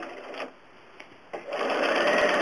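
Home sewing machine quilting, a close buzzing run of stitches that pauses briefly with small clicks and then starts up again stronger and steady to the end.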